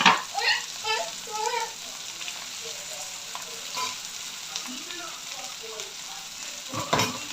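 Chutney ingredients sizzle and fry in a pan while a utensil stirs and scrapes, with a few louder clatters near the end.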